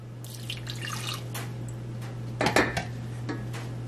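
Water is poured into a pot while making candy apples, a clattering, splashing sequence with metallic knocks of the pot and a louder burst of pouring midway, over a constant low hum.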